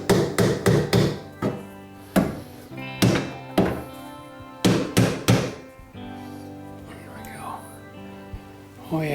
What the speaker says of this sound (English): Just a little bit of a hammer.